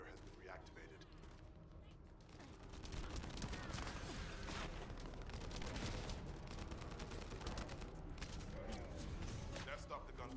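Video-game gunfire crackles as quiet, continuous bursts that thicken into a denser barrage after a few seconds, with faint voices mixed in.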